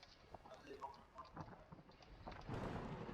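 A low rumble of thunder in the Roblox video game swells over steady rain, growing louder near the end, with voices talking underneath.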